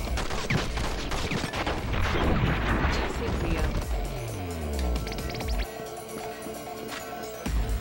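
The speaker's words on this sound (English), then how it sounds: "His bullets really hurt." Gunfire and impacts from The Matrix: Path of Neo video game, a dense, loud burst of shots and crashes followed by a descending mechanical whine, with game sounds layered together.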